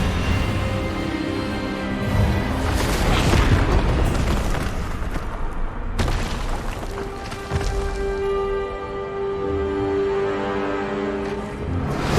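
An Expelliarmus spell effect in the Hogwarts Legacy video game erupts as a loud, sustained magical blast with booming bursts and a sharp crack midway, followed by a ringing, fading tail.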